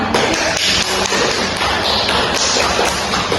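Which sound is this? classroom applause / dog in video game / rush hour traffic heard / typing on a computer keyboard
classroom applause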